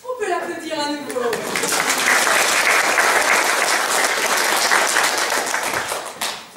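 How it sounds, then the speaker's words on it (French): Warm, steady applause from a theatre audience after an adult amateur theatre workshop performance, rising quickly and holding dense clapping, with a voice speaking briefly at the very start. "On peut l'applaudir à nouveau."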